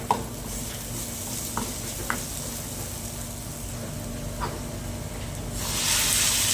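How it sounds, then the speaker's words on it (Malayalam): Chopped tomatoes sauté in a pan for a chicken sausage roast, giving a steady close sizzle with a few soft stirring clicks, and the hiss swells louder near the end with no one talking. "തക്കാളി ആഡ് ചെയ്തതിന് ശേഷം നല്ലതുപോലെ വഴറ്റുക"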